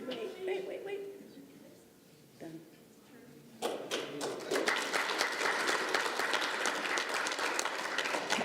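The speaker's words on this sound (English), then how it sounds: "If we can give them a round of applause." Applause breaks out at a city council meeting for veterans seated in the chamber, starting after a few seconds of quiet room sound and faint talk, then holding as a dense, steady clapping to the end.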